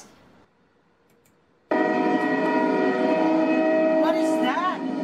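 After quiet, a loud sustained train horn sounds suddenly, a rich steady multi-tone blare, with a rising whistle-like sweep near the end.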